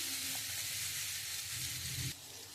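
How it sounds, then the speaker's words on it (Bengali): Ground spices sizzle and fry steadily in hot oil while being stirred for a soybean and chana dal, a close, continuous hiss with soft scraping that drops in level near the end. "এবার আমি খুব সুন্দর করে একটু কষিয়ে নেব।"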